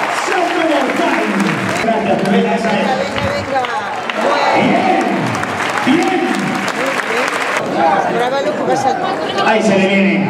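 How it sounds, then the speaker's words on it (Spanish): A crowd at a bullfighting recortes event applauds and cheers steadily, with lively chatter, shouts and an announcer's voice sounding over the ongoing clapping. "Y ese fuerte aplauso para Alex Lozada."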